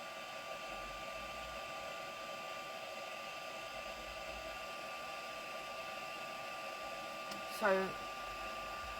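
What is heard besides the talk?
heat tool blowing hot air on art journal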